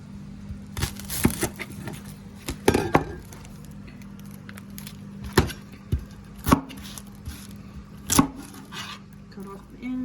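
A knife roughly chops an onion on a cutting board for a vegetable cheese soup, landing about eight loud, uneven, crisp thuds spread out over several seconds, with quieter cutting noises in between.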